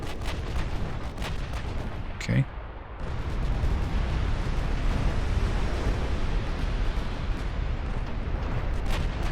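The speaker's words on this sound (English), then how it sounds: "Even the main guns have decided to fire HE at it." Heavy battleship main guns firing high-explosive shells in the naval game Ultimate Admiral Dreadnoughts, deep booming blasts over a rumbling battle backdrop, with one brief spoken word partway through.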